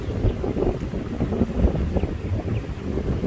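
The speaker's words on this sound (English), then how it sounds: "It's so windy." Strong wind gusting across Lake Bonham, a steady broadband rush with buffeting microphone noise throughout, no talking.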